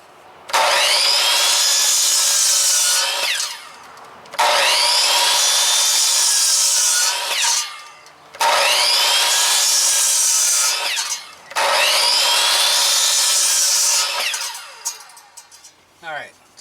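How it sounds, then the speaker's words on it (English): Wood boards for van wall framing cut by hand saw in four long, loud bursts of rasping strokes, each separated by short pauses, close to the listener. "let's go ahead and cut our wood"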